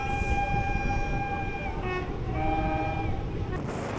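A train pulls into Balagarh station on the line from Sealdah, its horn sounding in long steady blasts over a continuous rolling rumble of the carriages.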